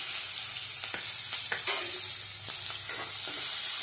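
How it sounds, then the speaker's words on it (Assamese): Onion and potato frying in mustard oil for a sesame-and-fish curry crackle with a constant close sizzle, while a spoon scrapes and stirs the pan in several short, distinct strokes. "পিয়াজ আলু আগতে ভাজি লম মই"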